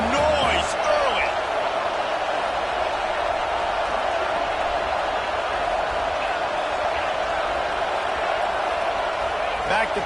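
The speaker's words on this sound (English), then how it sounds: "This crowd bringing the energy and noise early" Steady roar of a stadium crowd in a college football video game, a dense, continuous wash of cheering noise that holds at an even level throughout, with faint commentary speech mixed underneath.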